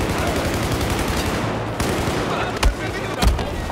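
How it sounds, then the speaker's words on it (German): Dense, continuous gunfire from the Battlefield 4 campaign in Shanghai, loud and unbroken, with a couple of heavier booms near the end. "Jetzt schießen wir uns mal durch."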